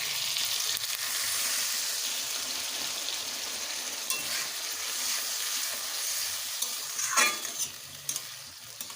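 Spice-paste water of ginger, cumin and dried red chilli poured over potatoes frying in a pan for a rohu fish curry with pointed gourd, giving a steady broadband sizzle with a few stirring scrapes near the end, no talk.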